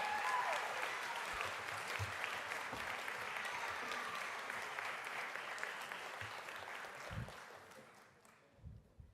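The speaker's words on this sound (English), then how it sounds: "One more round of applause for our amazing young artists from K through 12." A school board meeting audience gives a round of applause for young K–12 artists, sustained clapping that slowly thins and fades out near the end, with a few faint voices underneath.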